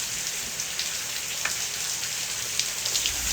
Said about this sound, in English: Well, the rain has picked up.